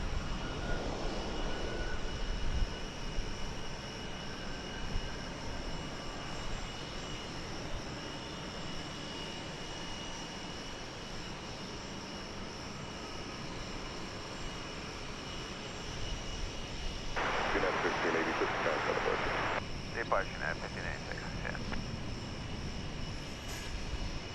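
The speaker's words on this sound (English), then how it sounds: "There goes that United A319." A United Airbus A319 jet departing DFW Airport: a steady, fairly distant engine roar that hangs over the whole stretch, faint and broadband, with a brief burst of other noise near the end.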